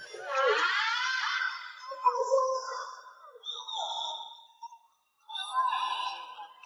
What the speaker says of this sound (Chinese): 幼崽听到奶妈声音，似乎知道救兵来了，委屈的大叫着